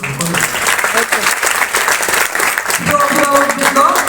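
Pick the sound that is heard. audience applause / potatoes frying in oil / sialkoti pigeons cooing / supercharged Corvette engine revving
audience applause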